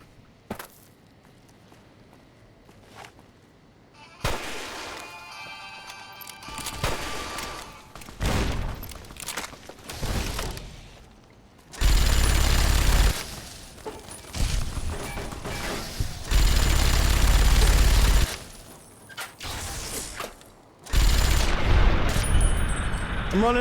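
Minigun bursts in Fallout New Vegas: long, loud, dense sustained roars of rapid fire in several stretches, with quieter game sounds and brief mechanical clicks between bursts.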